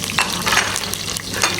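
Bruised lemongrass and curry leaves fry in hot oil in a pot, a steady, dense sizzle with small crackles and faint stirring. It is loud, continuous and close, and no one speaks.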